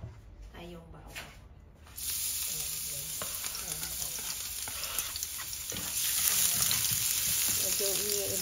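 Garlic dropped into hot oil for sautéed bitter gourd with eggs, a sudden loud sizzle starting after a quiet moment and holding steady, close, with someone talking over the frying.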